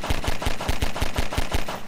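A rapid, evenly spaced string of loud punchy blasts, about eight in under two seconds, from a cannon weapon firing in the sandbox video game Garry's Mod.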